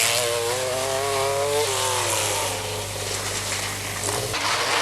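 MG Metro 6R4 rally car on a Welsh forest stage during the 1985 Lombard RAC Rally, its engine revving hard with rising and falling pitch, then dropping off and picking up again, loud and close as it passes.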